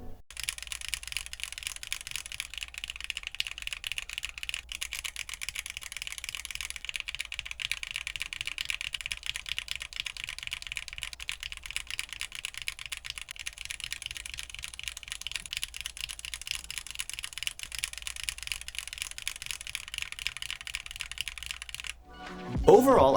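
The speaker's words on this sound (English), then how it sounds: "To better emulate the sound of typing on a keyboard, I've decided to try a row of switches" Rapid, continuous clacking of Gateron X mechanical keyboard switches being typed on, a dense even patter of crisp clicks close up, ending in a brief bump.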